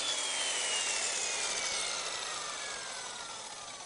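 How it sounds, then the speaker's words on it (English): A saw cuts a rustic wooden tabletop along a clamped guide, a steady, loud rasping buzz that runs without a break and fades slightly toward the end, with no voices. "I clamp a guide piece to the parts of the top to guide the saw accurately. First cut the ends and then the sides"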